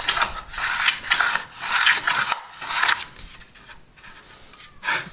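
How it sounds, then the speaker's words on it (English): Hand chamfering the edges of a wooden bench hook: rhythmic rasping strokes of a tool across wood, about five close passes with brief pauses between them. "I'm just going to phase the edges here a little bit, chamfer them a little bit"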